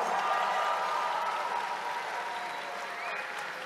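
Audience applause for dancers at a powwow (wacipi) exhibition held at the Mall of America, steady and dense throughout with a faint crowd murmur under the clapping.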